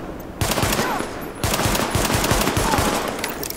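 Rapid automatic gunfire in Tom Clancy's The Division, two dense bursts of close, loud shots with a short gap between them, no talking over it.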